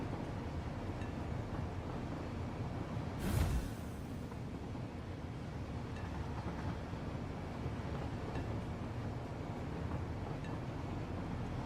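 Train rolling along the track in a video game, a steady broadband rumble with a brief louder whoosh near the start as another train passes close, continuous throughout with no talk.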